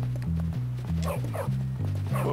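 In the video game Bully, a dog barks over a steady low in-game music loop, a series of sharp bow-wow barks at a quick, uneven rhythm, fairly close and loud.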